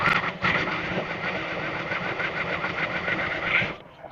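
A sewing machine stitches a salwar seam in one continuous, loud, close mechanical whir with a rapid steady rhythm, stopping abruptly near the end.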